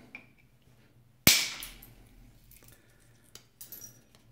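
Flint struck once with a percussion tool during knapping at Flint Ridge: a single sharp, loud crack, followed by a faint clatter of flakes and a few small clicks in otherwise quiet surroundings.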